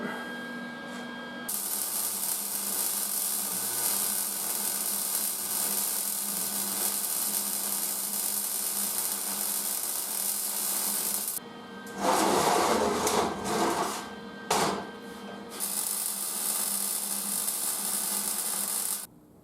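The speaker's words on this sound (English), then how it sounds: "We'll go real slow and weld it up." Continuous crackling hiss of welding along the base of a 20 ton shop press, a steady buzzing arc running nearly unbroken with a brief louder burst partway through and short pauses, close and alone without talk.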